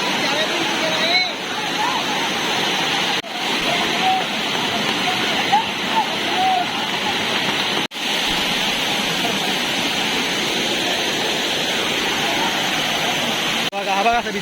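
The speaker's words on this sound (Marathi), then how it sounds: "आणि हा वॉटरफॉल पडतो" Navlai Devi waterfall near Guhagar pouring in a steady, loud broadband roar that fills the scene, with crowds of visitors talking over it throughout.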